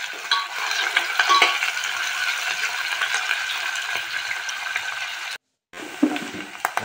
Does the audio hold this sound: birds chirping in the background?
no